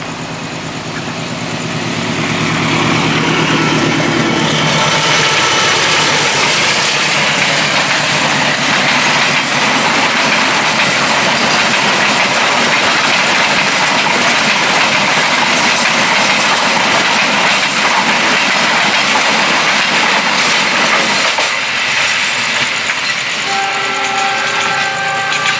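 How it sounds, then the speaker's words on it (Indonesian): A train rumbles past loudly and close, its steady roar and rattling wheels building after a few seconds and continuing, with a horn-like tone near the end. "Kereta lewat."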